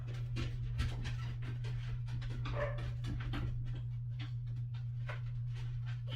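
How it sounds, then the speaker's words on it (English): Dogs bark and yip in rapid, irregular volleys close by, with whimpering mixed in, over a constant low hum. "I can tell by the way the dogs bark."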